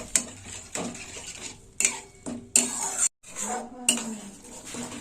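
Masala with curd water being sautéed in a pan, a metal spoon clanking and scraping in uneven bursts over a faint sizzle, with short pauses between strokes.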